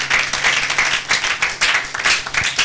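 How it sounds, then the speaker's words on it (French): A church congregation applauding together during a service, steady rhythmic clapping from many hands filling the room throughout. "Acclamez pour la gloire de notre Dieu"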